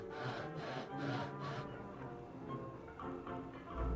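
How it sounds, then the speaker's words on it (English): Hand saw cutting through an Art Deco radio grill held in a miter box, with steady back-and-forth strokes rasping close by, the rhythm loosening toward the end, and no talking. "this is a miter box, just helping us get a perfectly perpendicular cut"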